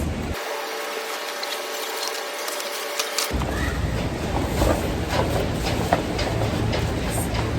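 Wooden blocks clatter and knock against each other inside a box, a busy irregular rattling that continues close by throughout.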